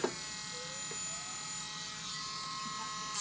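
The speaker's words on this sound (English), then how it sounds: "Let me use my drums sander with the Dremel" A Dremel rotary tool with a drum sander smoothing rough edges on a handmade elephant fork runs at a steady high-pitched electric whine, with faint grinding contact as it works, a brief click at the start and end.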